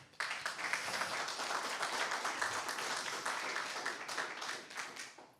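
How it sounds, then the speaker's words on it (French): A room full of people at a French-language conference clapping, a dense patter of applause that holds steady for several seconds before tapering off near the end. "Je pense qu'on peut vous applaudir."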